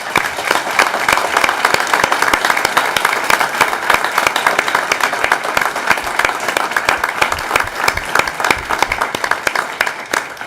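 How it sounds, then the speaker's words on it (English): A school board meeting audience gives students a sustained round of applause, dense steady clapping from many hands filling the room for about ten seconds. "So another round of applause"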